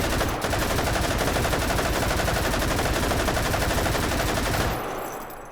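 An RPD machine gun with a bipod fires in the VR game Hot Dogs, Horseshoes and Hand Grenades: one loud, sustained full-auto burst of rapid shots for several seconds that abruptly stops, with no talking.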